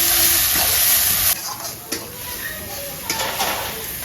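Salt being stirred into a Bengali-style rohu fish curry with cauliflower in a pan: a steady sizzle with soft scraping and stirring strokes, a brighter burst at the start, then lighter stirring clicks.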